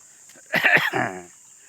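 A single short, throaty coughing fit, close and fairly loud, fading out into quiet.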